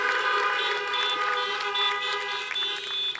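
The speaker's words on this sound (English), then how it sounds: "So if we can just do a quick honk or a cheer for them." Car horns honk together in a sustained, overlapping chorus during a drive-by celebration for a high school graduation, loud and steady for the whole stretch.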